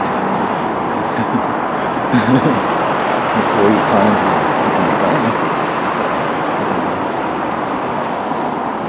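Cars pass along a Tokyo street near Asakusabashi Station in the morning, a steady broadband roadway rumble with a few louder swells, while someone talks over it.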